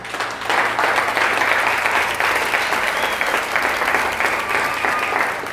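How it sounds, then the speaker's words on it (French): A church congregation at a Christian gathering bursts into loud, sustained applause with some cheering, dense clapping filling the hall throughout. "Dis gloire à Dieu, acclame très fort pour le Seigneur."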